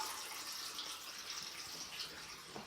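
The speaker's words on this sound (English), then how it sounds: "Just filling up the Bulldog Brewer with water before I start mashing in." Tap water runs steadily into a Bulldog Brewer all-in-one brewing vessel ahead of mashing in for a honey ale, a soft continuous hiss and trickle at low level with no talk.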